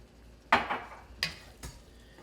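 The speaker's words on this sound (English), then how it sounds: "I want to see what it looks like as I stir it in" A spoon stirs a pot of seafood étouffée with shrimp, scraping and clinking close by in a few brief strokes over a low background.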